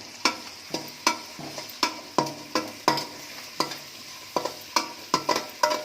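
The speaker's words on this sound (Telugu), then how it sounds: "సన్నగా తరిగి పెట్టుకున్న ఆనియన్ వేసుకోవాలి. బాగా ఇవన్నీ దోరగా వేయించుకోవాలి." Finely chopped onions fry in a pan for egg fried rice under a light sizzle. A spatula scrapes through them in regular, close strokes about twice a second.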